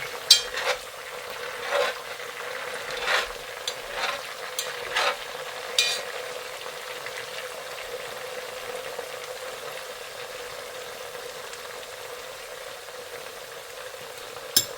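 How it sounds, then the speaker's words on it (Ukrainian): Vegetables sizzle steadily in a pot for a meatless borscht, with several scraping stirs of a spoon near the start, then a continuous close frying hiss with no talking. "Ще раз акуратно я це все перемішую."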